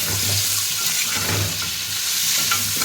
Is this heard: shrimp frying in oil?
yes